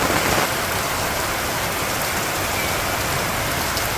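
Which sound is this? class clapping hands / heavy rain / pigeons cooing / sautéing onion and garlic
heavy rain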